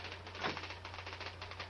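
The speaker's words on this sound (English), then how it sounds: "I've become one with the typewriter." Rapid typewriter keystrokes clatter in a steady run of close, crisp taps, one-handed typing at high speed over a low steady hum.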